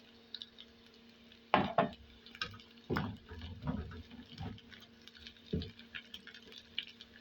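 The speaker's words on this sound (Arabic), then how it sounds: "نظل نحمس هالشكل ونعمل يصير لونه جوزي. طبعا هسه نضيف الكاري، نظل نحمس فيها شوية" Minced meat with onions and curry is stir-fried in a pan, with faint scrapes and a few louder spatula knocks against a quiet background hum, no voices.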